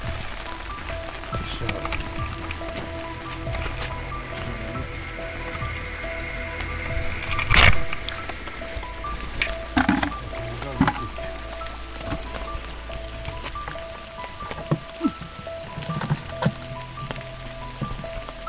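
Rain falls outdoors near a household water barrel, a continuous close patter with scattered louder drops and knocks over a low hum, no talking.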